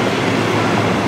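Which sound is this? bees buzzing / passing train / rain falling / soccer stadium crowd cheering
passing train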